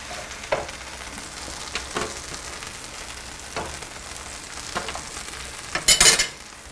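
Mushrooms fry in a pan for a Steak Diane sauce, a steady sizzle broken by several stirring scrapes and a louder clatter near the end, with no talking.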